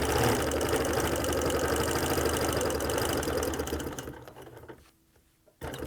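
Sewing machine stitching a quilt, a close, steady rapid whir of the needle that slows and stops near the end, leaving a short quiet gap before a faint restart.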